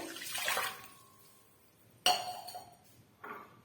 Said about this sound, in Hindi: और अब इसमें 1 गिलास पानी डाल दें